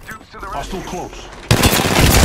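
Someone speaks briefly, then loud, dense gunfire from a shooter video game erupts abruptly partway through and continues as rapid, overlapping shots up close.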